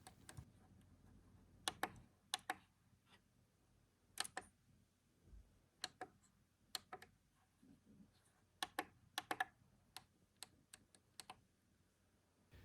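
Small plastic buttons on an Alienware gaming monitor click one at a time in an irregular series, crisp and close against a quiet background.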